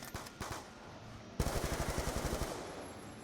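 Rapid automatic gunfire from Black Ops 2 on PS3 starts with a few shots, then becomes a steady burst of evenly spaced rounds.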